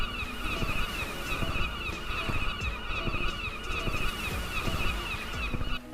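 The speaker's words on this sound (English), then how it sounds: "this mod lets you turn off the seagulls that appear in the game, including their awful, annoying noise" Seagulls in the city-building game Cities: Skylines call over and over in harsh, honking cries that run through a steady ambient background, with no talking.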